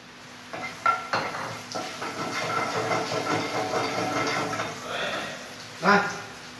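A curry leaf dropped into hot coconut oil where mustard seeds have already cracked, giving a steady close sizzle and hiss with a few louder spits and pops, with no talking heard.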